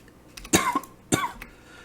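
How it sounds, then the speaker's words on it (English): A person coughs in two sharp, harsh bursts about half a second apart, close and fairly loud, with a short rasping tail after each, during a Minecraft play session. "God damn it, I am dying from coughing."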